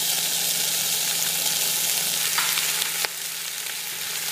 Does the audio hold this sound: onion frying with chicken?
yes